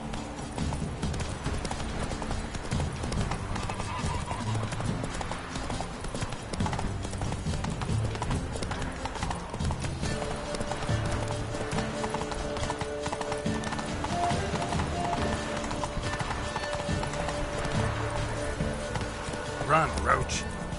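Hooves of the horse Roach in The Witcher 3 beat a steady galloping clip-clop on the ground, close and continuous, with an occasional whinny, game ambience and a voice.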